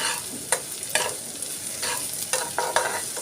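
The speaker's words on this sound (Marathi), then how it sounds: "कांदा छान भाजून झाल्यावरती त्याच्यात सगळे मसाले टाकायचे" Sliced onion fries with spices in a hot pan, a steady sizzle broken by repeated scraping strokes of a spoon every half second or so, close up with no talking.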